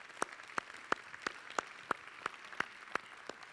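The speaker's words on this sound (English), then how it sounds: "If you would give our volunteers a round of applause this evening as they make their way up." An Alabama Theatre audience claps for volunteers heading to the stage, heard as faint, regularly spaced claps at a steady pace over a quiet hall, with no one talking.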